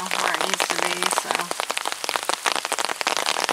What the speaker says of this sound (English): I don't mind this kind of rain.